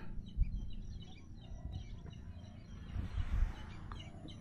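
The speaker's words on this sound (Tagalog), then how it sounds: "Alon at huni ng ibon ang maririnig mo." A beach by a lighthouse in Divilacan, Isabela: steady low surf rumble fills the background while faint, scattered bird chirps sound above it.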